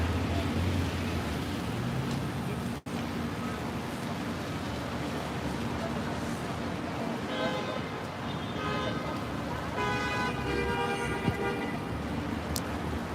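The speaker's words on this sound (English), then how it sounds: "What we just heard there, folks, is called the machine gun car honk." Car horns honk in rapid repeated bursts over steady rainy Manhattan traffic noise on the Upper West Side, the honks clustered in a quick run near the end.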